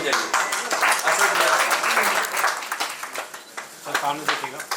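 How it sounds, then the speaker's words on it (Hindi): An audience claps at a student felicitation event in Delhi, a burst of close, brisk applause that swells early then thins into scattered claps, with voices murmuring underneath. "ताली बजाइए।"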